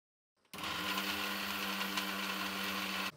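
A kitchen mixer grinder runs steadily on a batch of spice powder for bisi bele bath, a loud continuous whir and drone that starts abruptly and holds for about three seconds, with no talking.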